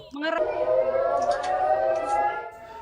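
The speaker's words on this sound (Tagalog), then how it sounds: "Dinig ang sirena at airstrikes" An air-raid siren wails during airstrikes in Tel Aviv, Israel, as a steady, sustained rising tone heard at a distance and moderately quiet, with no talk over it.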